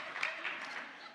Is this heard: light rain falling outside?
no